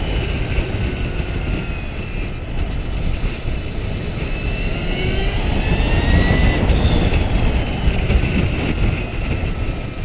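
Victory Empulse TT electric motorcycle ridden in second gear at about 35 mph, a steady wind-blasted roar with rising and falling whine tones, loud and continuous throughout.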